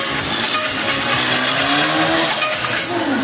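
Stunt cars tilted onto two wheels at 45 degrees drive past at a monster truck show, their engines roaring continuously against a loud crowd, with tires rising in pitch near the end.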